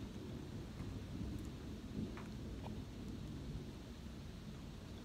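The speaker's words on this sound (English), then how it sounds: "That was thunder." During a heavy rainstorm, thunder rumbles low and distant beneath a constant hiss of rain, faint overall with no voices.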